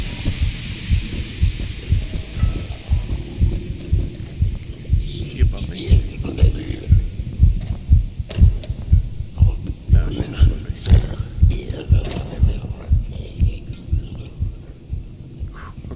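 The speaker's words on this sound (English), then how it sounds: "She has to be way closer for you to hear the heartbeat now." Steady, throbbing heartbeat from the horror game Lunch Lady thumps in a regular low pulse across the whole stretch, with faint ambient hum and occasional clicks layered over it.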